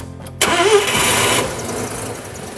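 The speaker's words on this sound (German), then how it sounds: "Springt der Kreiskolbenmotor an?" A Mazda RX-7 rotary engine cranks and fires into life abruptly, catching with a loud burst and a brief rising rev before settling back into a quieter, rough idle, close by.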